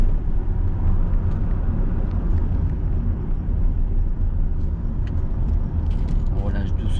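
Car in a driving lesson accelerating gently then braking before a bend, a low steady engine rumble inside the cabin, with an instructor talking over it.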